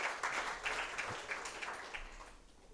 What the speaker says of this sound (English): Let us give a big round of applause to them.